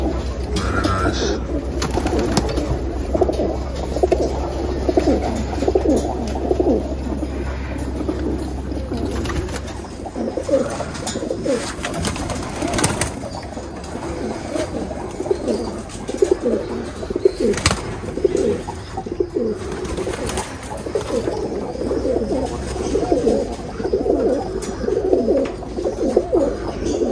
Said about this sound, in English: These pigeons here, these are the air team cocks.